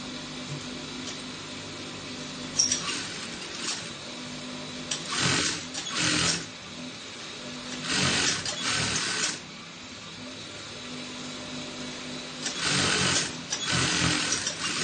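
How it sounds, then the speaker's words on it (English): Sewing machine stitching a half-inch sleeve seam from the wrong side of a child's senator top, running in several short bursts of whirring stitches separated by pauses with a low background hum. "we're doing this from the wrong side, sewing half inch all through"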